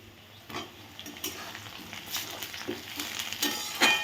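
Reddened onions and freshly added chopped tomatoes frying in a pan after fish was fried in it, a low sizzle with irregular stirring scrapes and clinks that build toward a louder clatter at the end.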